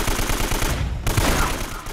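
AK rifle fire in Uncharted: Drake's Fortune, a dense, continuous stretch of rapid automatic shots with thumping low bursts, loud and close throughout the short clip.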